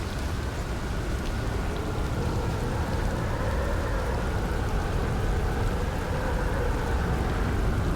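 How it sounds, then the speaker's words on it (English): Storm rain pours steadily in the video game Outer Wilds, a dense, continuous loud hiss with low rumbling underneath, without any speech. "Shit, a storm is approaching."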